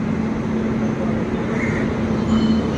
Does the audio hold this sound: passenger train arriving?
yes